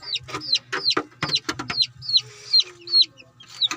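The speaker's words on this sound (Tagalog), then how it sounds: "Painom na natin ang ating bagong sisiw." Newly hatched chicks peep in quick, high repeated calls, close and fairly loud, with a low steady hum underneath and a brief faint voice.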